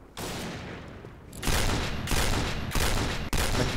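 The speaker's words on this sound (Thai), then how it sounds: "เฮ้ยเดี๋ยวมึงยิงรัวจังวะ" Rapid automatic fire crackles in the Point Blank shooting game: loud, dense bursts of shots broken by brief gaps, growing heavier partway through, with no voices over them.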